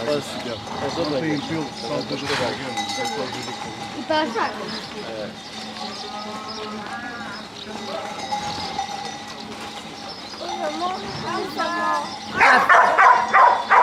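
A dog barks and yips several times amid a busy mix of other sounds, with people talking and background noise throughout.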